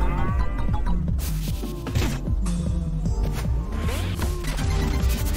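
Cartoonish cow moos sound over busy, continuous video game music and effects in Pizza Tower, mixed in with crashes and rhythmic beats.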